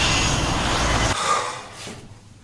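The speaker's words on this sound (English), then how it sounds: "We're going some of the way by chopper, then we're going to ski." A helicopter roars overhead in a radio drama, a dense, loud rush of engine and rotor noise that cuts off and fades away near the end, with no voices.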